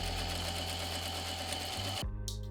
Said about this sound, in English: Stitch 1/8 of an inch along the edge as well.